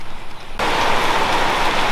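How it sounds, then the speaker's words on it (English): Gentle rain from an afternoon thunderstorm falls in a steady, dense patter that starts abruptly and then holds evenly close by, with no talk. "nice gentle rain at the moment"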